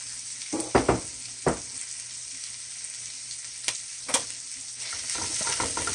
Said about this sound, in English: you're just going to take your kale, your dragon kale, and you're just going to put it in there over the onion and the garlic, like so.